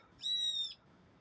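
A single faint bird call in a park, one short drawn-out tonal note lasting about half a second, high-pitched and thin over quiet background.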